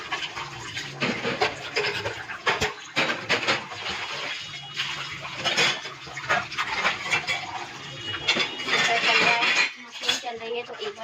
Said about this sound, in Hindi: हम जब तक ये बर्तन वॉश कर लेते हैं